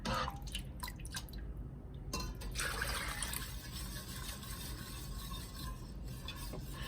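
Milk is poured and stirred into a hot bechamel sauce for lasagna, giving close wet dripping and trickling with soft liquid stirring that continues steadily throughout.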